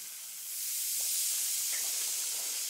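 Vinegar fizzing on a mini baking-soda dinosaur egg, a close, steady hiss of bubbling that rises after a brief quiet start and holds, with faint crackles.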